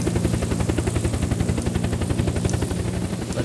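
A helicopter engine in the survival game Unturned runs steadily, with a rapid, even rotor thump throughout, close and fairly loud.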